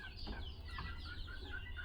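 Chickens on an organic poultry farm cluck softly in short repeated calls, faint and close, with no talking.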